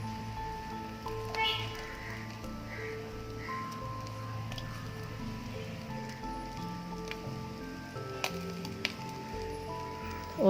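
Dried vala karuvadu fish fries on a banana leaf in a pan, giving a soft, steady sizzle and crackle that runs throughout beneath a layer of tonal background music.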